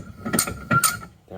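Metal parts clank and ratchet briefly while a component from a Ski-Doo REV snowmobile is tightened in a bench vise, two close bursts of mechanical clicking followed by a short low hum.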